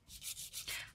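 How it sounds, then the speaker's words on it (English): Builder gel nails being buffed and filed, several quick, soft rasping strokes in a steady back-and-forth rhythm, faint and close. "I'm just kind of buffing and filing just to get the nail to the shape that I like."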